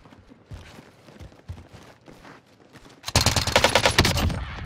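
Rapid bursts of automatic gunfire from a video game erupt loudly in the final second and a half, dense and continuous, after softer scattered shots and game noise.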